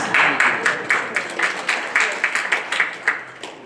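Scattered audience clapping at a civil rights history talk, a modest group producing distinct, fairly rhythmic claps close by, uneven and trailing off toward the end.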